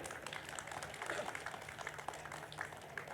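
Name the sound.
audience applause, loud clapping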